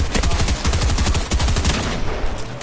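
Rapid automatic gunshots in a PS4 video game: a loud, dense rattle of fast repeated shots fired close, continuing steadily for about two seconds before thinning out.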